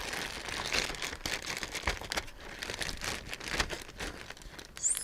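Plastic bag holding short ribs in marinade, crinkled and handled up close in a steady run of crackly rustles with a few sharper crinkles, no voices.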